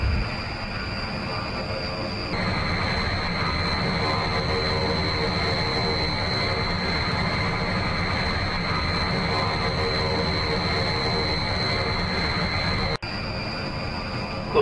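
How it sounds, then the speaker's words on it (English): Turboprop whine of a Bréguet 1050 Alizé in a flight simulator, a steady high-pitched tone over a continuous engine drone that jumps up after a couple of seconds and holds, with a brief click near the end. "you've also got that lovely turboprop whine"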